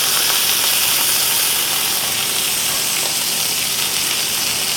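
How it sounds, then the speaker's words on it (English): Beef pot roast sears on its edge in a hot pan, a steady loud broadband sizzle and hiss running continuously throughout, with no voices over it. "Sear that for probably 30-40 seconds."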